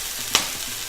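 Ravioli drops into hot oil with one sharp, close sizzling burst, then settles into a faint steady fry.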